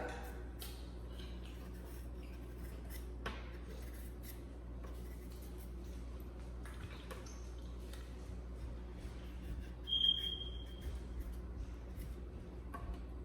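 A knife slices through plantain for a porridge in a home kitchen, giving soft, close scraping and cutting strokes with faint irregular ticks over a steady low hum, plus one brief sharper squeak partway through.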